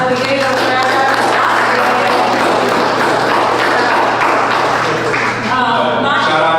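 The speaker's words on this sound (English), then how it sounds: "A round of applause for the beginning of Grand Rapids" Meetup audience applauding in a room, a steady dense wash of clapping that fills the whole stretch at full loudness with crowd noise mixed in.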